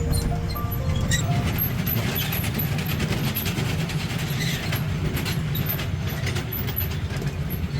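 A small amusement park toy train rumbles steadily along with a constant mechanical drone, loud and close, with faint background noise and no clear talking.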